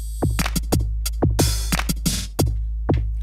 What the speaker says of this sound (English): I have a factory sequence and a factory program loaded up called Bounce.